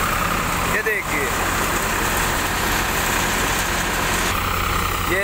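A Farmtrac 60 tractor idles at a mustard harvest, its engine a steady, even rumble close by that runs unbroken from start to finish, with someone talking over it.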